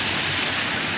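Water pours steadily down a waterfall-like feature in a Singapore garden, a continuous broad rushing hiss with no break, close and fairly loud, no voices.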